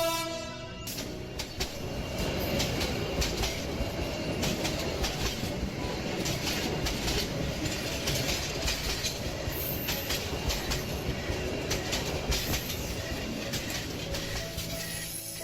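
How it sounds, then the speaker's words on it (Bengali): A train pulls into Shyamnagar station platform at dusk, a loud, continuous rumble of wheels and carriages running throughout with rattling, a horn blast and squealing wheels. "হুইসেল বাজিয়ে ট্রেনটি শ্যামনগর পৌঁছালো"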